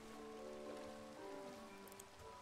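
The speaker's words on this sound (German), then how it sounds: "Oh, dunkel und Regen." Rain falls in Minecraft as a soft, even patter that holds steady throughout, faint and continuous, with no voices over it.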